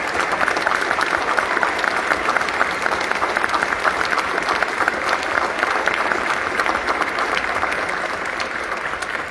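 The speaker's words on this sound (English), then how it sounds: "Please, a round of applause for Ms." Steady audience applause at a school board meeting, a dense, even patter of many hands clapping throughout, moderately loud and sustained for about nine seconds.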